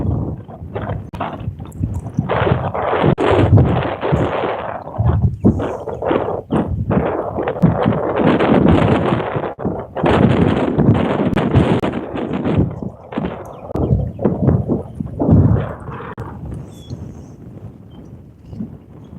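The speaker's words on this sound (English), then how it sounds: "Looks pretty windy out there. Can you hear the wind?" Heavy wind buffets the microphone in loud, rumbling gusts that swell and fade throughout, with no voices present, outdoors by the Illinois River.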